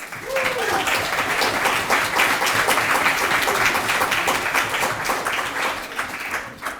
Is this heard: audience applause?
yes